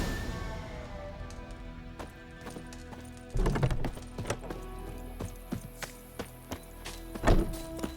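Hooves clip-clop on the ground as a horse sets off in the Witcher 3 video game, starting soft and quickening into louder, irregular hoof strikes with a few sharp thuds, over a quiet background score.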